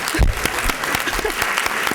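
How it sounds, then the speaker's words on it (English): An audience at a university education pinning ceremony applauds the cooperating teachers, a steady, close burst of many hands clapping throughout. "I want to give them a round of applause."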